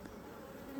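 Honey bees at a strong hive produce a brief, soft, steady buzz, low and continuous with a faint rising tone near the end.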